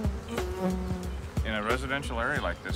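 An angry swarm of killer bees buzzes steadily through a residential area while someone talks over it, the insect drone continuous beneath his voice.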